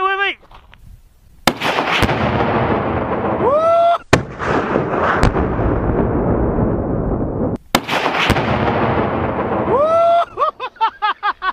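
An ignited charge bursting on ice: sharp loud blasts and cracks in sequence over several seconds, with excited voices talking and shouting around them outdoors.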